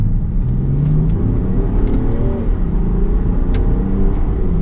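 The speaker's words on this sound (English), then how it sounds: "let's pop it into the manual setting here, and we will go down into second gear," A 2024 Land Rover Defender 130 Outbound accelerates in second gear, giving a steady, loud engine drone with a low rumble heard from inside the cabin, with no talking.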